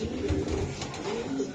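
A racing pigeon chick from a club breeding line coos in soft, low, repeated throaty bursts close by, with light background noise.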